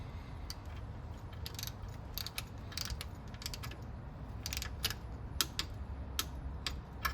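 A torque wrench tightens a bolt on a Mustang V6 engine during an overhaul, giving a rapid run of small ratcheting clicks in quick bursts over a low steady background hum.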